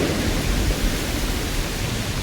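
Steady rain pours down outdoors in a video game at night near vegetation, a dense, even hiss with a low rumble that stays loud and unbroken throughout.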